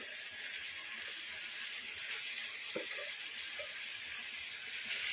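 Beef fries with spices in a hot pan in a home kitchen, giving a steady, loud hiss and sizzle throughout with a few faint knocks of stirring.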